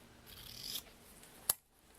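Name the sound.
scissors cutting a piece of ribbon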